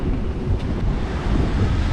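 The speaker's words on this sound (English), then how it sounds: "Every so often there's a really fierce gust" Fierce wind gusts buffet a sailing boat on an Atlantic crossing, steady low roaring wind and wave wash close to the microphone, swelling and easing without any voices.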